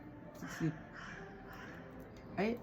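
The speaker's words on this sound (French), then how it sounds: "Le corbeau a répondu positif à ce que je viens de dire." A crow caws twice from outdoors near a sixth-floor apartment in central Paris, two harsh calls spaced about two seconds apart over faint background hum.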